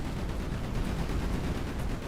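Rapid crackling bursts from an explosion in Dante's 9, a video game in development, sound like dense gunfire, loud and continuous with a heavy low rumble underneath.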